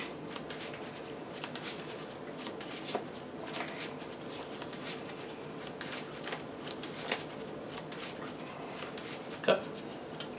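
A deck of cards being shuffled during a Six Sages card game duel, a steady stream of riffling and flicking with a few sharper snaps, close and fairly quiet.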